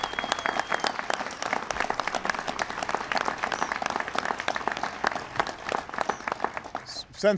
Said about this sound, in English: Please give Carol Browner a big round of applause.